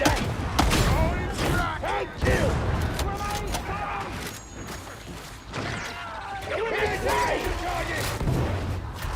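Cannon and gunfire crack repeatedly in a Warhammer 40,000 video game battle, dense overlapping blasts and impacts under excited voices calling out throughout.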